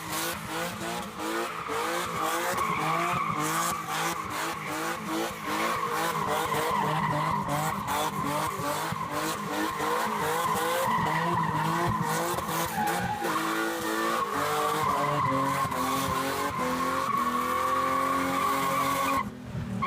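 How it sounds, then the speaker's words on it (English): A BMW E30 doing a burnout with a tree strapped to its roof, engine revving hard under a continuous loud tire squeal that holds for nearly twenty seconds before cutting off. "I wanted to do like a quick little burnout with the tree on the roof"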